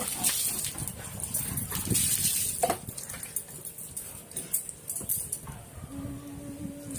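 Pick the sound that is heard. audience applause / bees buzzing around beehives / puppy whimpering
puppy whimpering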